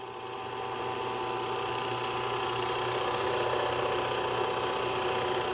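A drill bores slowly through the wooden body of a scratch-built figure 8 electric guitar backed by a backer board, its motor whine rising at the start and then holding as a loud, steady whir.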